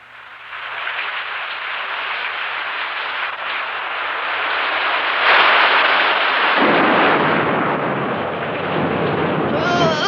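A deep, rolling rumble of thunder swells and lingers with a broad roaring wash, loud and sustained like a heavy storm overhead.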